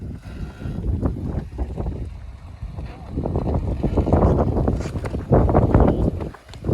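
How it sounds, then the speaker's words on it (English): Gusty wind buffets the microphone in uneven bursts among rocks in Moab, with faint voices mixed in outdoors. "It's just windy."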